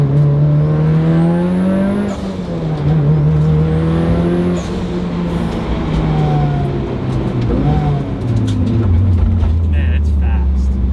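A tuned Mitsubishi Evo drives fast, its engine holding a loud, steady drone with rising and falling pitch as it accelerates and shifts, close and continuous throughout, with voices talking and cheering over it.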